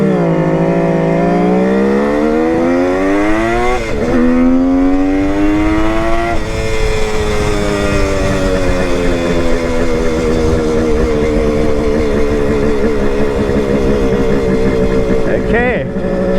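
A Kawasaki KH500 H1 motorcycle engine revs hard on a ride, pitch climbing steadily through the gears with brief dips at each shift and a loud, continuous, close-up tone.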